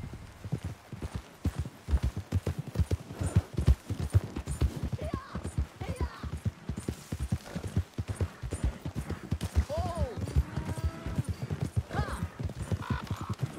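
A horse gallops hard during a race in Red Dead Redemption 2, a steady rapid clip-clop of hooves running throughout, with a brief whinny-like call and faint talk near the end.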